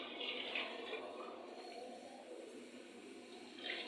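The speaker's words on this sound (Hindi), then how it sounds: "किसी जग के अंदर डालूंगी मैं थोड़ा सा पानी।" Water poured from a jug into a pot of degi-style korma, a steady splashing pour with a fuller burst near the start and a brief surge at the end, close by with no talk.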